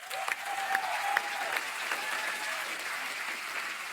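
Studio audience at a comedy show claps in a steady, full burst of applause throughout, with a brief tone heard early and no speech.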